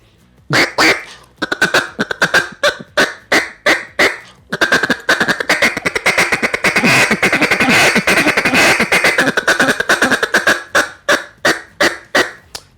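A duck call blown in rapid, loud quacks that speed up into a dense, continuous burst of calling, then taper back to separate quacks.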